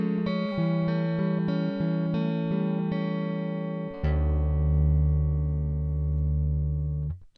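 A guitar plays a song slowly, sounding as a run of sustained, distorted notes and chords, then one long, loud chord ringing out before it cuts off.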